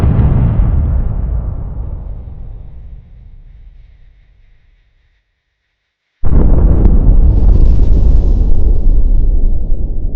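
A Russian MLRS loaded with 40 rockets blows up, a deep, loud rumbling blast that slowly fades to silence, then another heavy roaring burst returns abruptly and stays loud.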